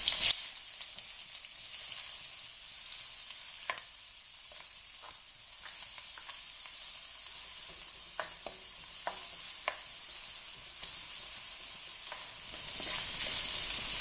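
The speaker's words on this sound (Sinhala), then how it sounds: "තෙල් රත් වෙනකොට කුරුඳු පොත්තා. රතු ලුණු දාගන්න." Red onions and cinnamon sizzling in hot oil, a steady low hiss with occasional sharp pops and crackles scattered throughout, close by, with no voices.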